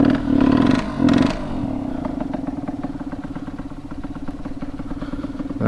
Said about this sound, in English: let's see if it'll start with no choke. I'll just give it some gas here.